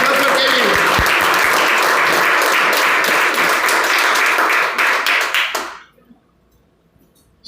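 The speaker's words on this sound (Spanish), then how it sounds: "Dale un aplauso a Kevin." A church congregation applauds, dense sustained clapping from many hands filling the room for about five seconds before quickly fading to near silence.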